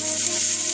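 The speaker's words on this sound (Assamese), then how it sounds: "লৰাই লৈ ৰঙা কৰি ভাজি লওঁ।" Cut potatoes and peas frying together in a pan with oil, giving a steady, close sizzle that holds evenly throughout with no talk over it.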